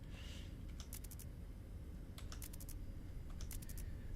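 Clicky computer keyboard typing with a sticking D key, quiet bursts of sharp keystrokes in three small clusters over a low background hum.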